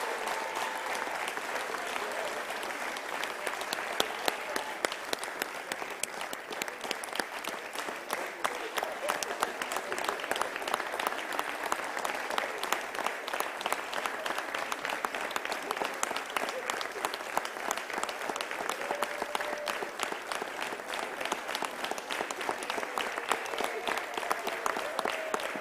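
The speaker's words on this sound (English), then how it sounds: "Please give him a round of applause." Steady, prolonged audience applause fills a venue during a matric results announcement, with dense clapping holding at an even level throughout.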